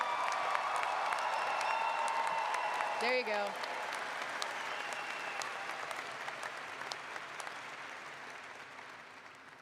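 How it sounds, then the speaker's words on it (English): A graduation ceremony audience gives steady applause with some cheering, a sustained wash of clapping that gradually softens. A person speaks briefly partway through. "please join me in giving our graduates a well-deserved round of applause"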